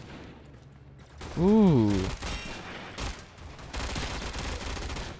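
Rapid gunfire from the Azima weapon in the video game Warframe, loud bursts mixed with game effects and a sweeping tonal whoosh, while a man briefly exclaims over the action.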